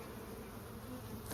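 Steady buzzing of many honey bees from an opened hive fills the air, a dense continuous hum close by with no pauses.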